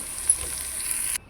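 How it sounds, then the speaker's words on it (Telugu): Bottle gourd pieces, added over ginger paste and turmeric, are stirred in a hot pan, giving a steady close hiss of frying that runs for about a second before stopping abruptly. "సోరకాయ ముక్కలు యాడ్ చేసి ఇక కలుపుతున్నా."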